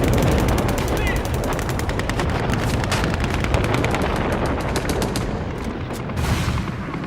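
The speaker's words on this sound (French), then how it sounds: "Les mitrailleuses allemandes vont s'en donner à cœur joie." German First World War machine guns fire in sustained rapid bursts, a dense continuous rattle of gunfire over a loud battle din, with no speech heard.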